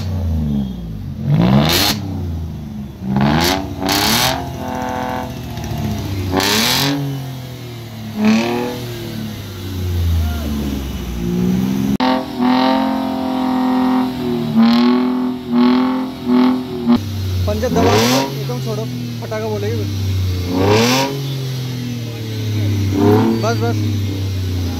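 A modified Bajaj Pulsar RS200 motorcycle with a reworked exhaust revs in repeated loud bursts, its rising and falling engine note heard close by while people talk over it throughout.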